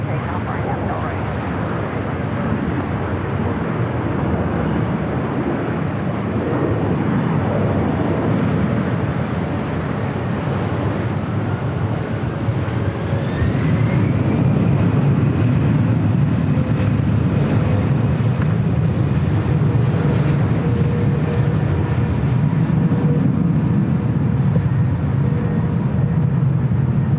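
Cathay Pacific Boeing 777-300ER in oneworld livery taking off from runway 24 left at LAX, a loud broadband jet roar that builds and stays strong throughout, with people talking over it.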